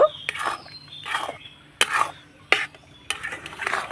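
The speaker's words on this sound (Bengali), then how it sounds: "এবার মিডিয়াম টু লো আছে করে নাড়াচাড়া করব" Ripe mango laddu mixture stirred in a pan over medium-low heat: a series of close, sharp scrapes and clinks of a spoon against the pan, coming in irregular strokes with faint sizzling between them.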